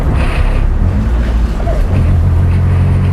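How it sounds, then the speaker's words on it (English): A 20-year-old car climbs a hill under load, its engine giving a steady low drone with broad rumbling noise throughout, fairly loud and continuous. "You can also hear some engine noises because of the load."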